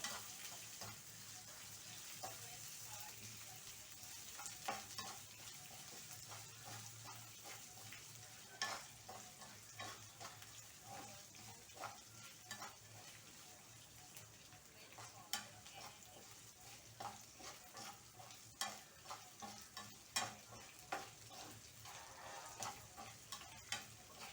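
Pandharpuri roasted dal and chopped cabbage dry-roasting in a pan over a lowered gas flame: a steady soft sizzle with repeated spatula scrapes and taps, no voices.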